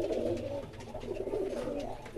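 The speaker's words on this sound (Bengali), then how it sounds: "পায়রা দুটো আমি ছেড়ে দেখাচ্ছি" Pigeons coo in low, rolling, throaty calls that repeat steadily close by, with no talking over them.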